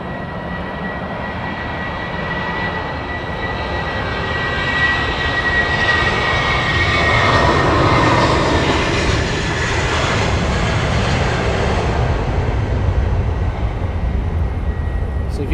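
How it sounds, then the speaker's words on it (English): A British Airways airliner rolls for takeoff at Heathrow, its jet engines building from a steady roar to a louder, broad rumble that stays close and continuous, with a talking voice under the engine noise. "So the next rolling is British Airways, and then we have Icelander behind that"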